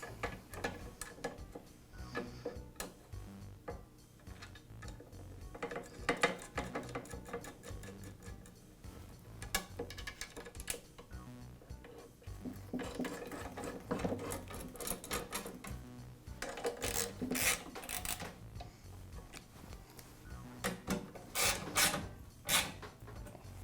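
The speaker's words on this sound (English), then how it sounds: "Now I'll reinstall the support bracket." Metal bracket and fastener clicks, ratcheting and tapping sound close by while a support bracket is refitted on a Makita planer during a drive chain replacement, irregular mechanical clatter with no talking.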